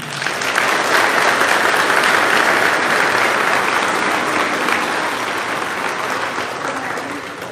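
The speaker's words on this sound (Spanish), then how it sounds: "lo recibimos con un fuerte aplauso" Steady, sustained applause from an audience at a talk fills the whole stretch, dense clapping holding at an even loudness without a break.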